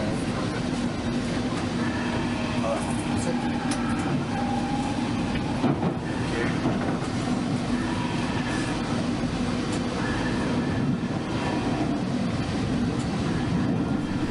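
A London Underground Northern line train runs through a tunnel past the abandoned City Road station, a loud, steady rumbling roar with faint rail clatter that continues without a break.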